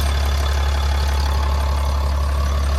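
A 2018 Dodge Ram 5500 HD 4x4 with a 6.7-liter Cummins diesel idles with a steady, deep drone, while a light rattle from the transmission dipstick buzzes close by over the engine note without a break.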